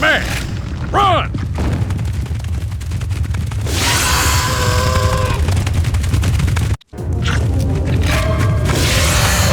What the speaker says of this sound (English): Shooting this is only gonna get it mad.